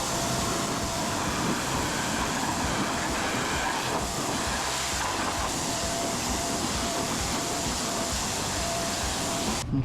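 Steady, loud broadband hiss of water spraying across a 2014 Toyota Tundra pickup during a rinse, continuous and close for the whole stretch with no talking.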